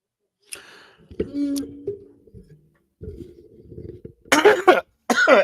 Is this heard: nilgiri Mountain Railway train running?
no